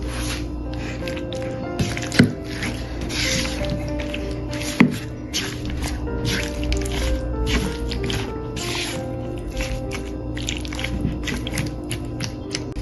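Wet, squelching sounds of chicken shawarma marinade being mixed close up, with irregular squishes and a few sharper knocks throughout.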